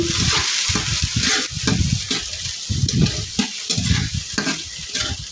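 Ginger, onion, garlic and green chillies fry in a pan, with a loud close sizzle broken by repeated scraping stir strokes in an uneven rhythm and no voices.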